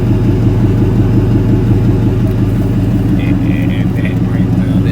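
A car engine runs steadily at idle with a constant low rumble, close and fairly loud, throughout.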